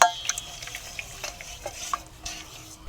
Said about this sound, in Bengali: এই মশলাটা আমি এবার ভালোভাবে গুলিয়ে নেব